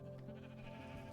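Sheep on a video game sheep farm bleating softly, a faint, steady wavering bleat under a low background hum, with no talking.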